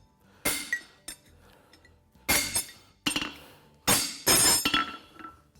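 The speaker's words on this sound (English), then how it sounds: "just go through with a back punch to square the nail holes up" A back punch hammered through the nail holes of a Swiss-style hind horseshoe, giving about five sharp metallic clinks in irregular bursts, close and ringing, with quiet gaps between strikes.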